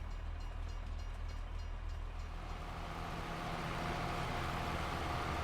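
A train rolls past in Farming Simulator 22, a steady low rumble and rail noise that swells slightly as it passes, alone with no talk.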